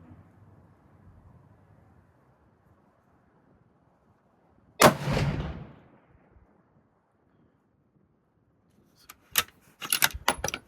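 A Ruger American Predator rifle fitted with an EC tuner brake fires one loud, sharp shot with a ringing decay, then several rapid metallic clacks and impacts close by near the end.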